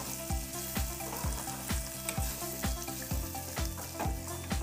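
Okra sizzles steadily in a hot frying pan for a Telugu-style bendakaya fry, with a spatula stirring in regular close strokes about every half second. No one speaks.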